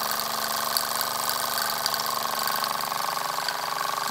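A Latimer L5 toy steam engine with a drip oiler runs steadily, a constant close mechanical whirr and hiss with a fast, even chuff and rattle that stays level throughout, no voices.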